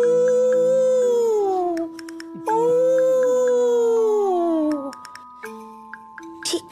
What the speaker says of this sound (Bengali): দূর থেকে কুকুর কাঁদছে।